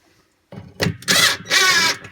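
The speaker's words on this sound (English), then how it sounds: "I'm going to switch my impact drill out from a 1/4 inch to just a regular Phillips" An impact drill with a Phillips bit drives screws while a Kenmore 300 wash basin is assembled, with two loud whirring bursts close by after a short quiet start.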